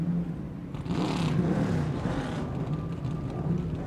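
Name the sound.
Cadillac race car engines starting and revving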